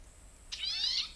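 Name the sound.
bird song recording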